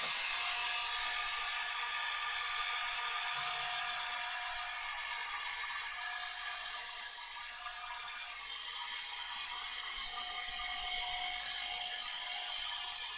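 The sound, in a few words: hair dryer blowing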